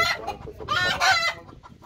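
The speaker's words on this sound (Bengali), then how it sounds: "এটা হচ্ছে মোরগ মুরগি আছে" An Egyptian Fayoumi rooster and hens cluck nearby in short, bright bursts, with a louder rising squawk in the middle and quieter pecking-yard clucks around it.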